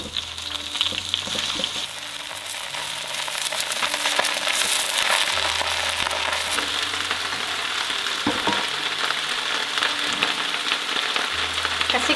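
Cabbage stir-frying in hot oil with dried chili, a steady close sizzle and crackle with occasional stirring scrapes throughout, no talking.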